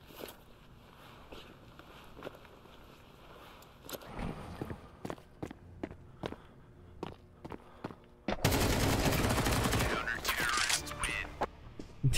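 Gunfire in Counter-Strike 2: scattered single shots and footsteps give way to a loud, sustained automatic burst near the end, with a voice briefly talking over the action.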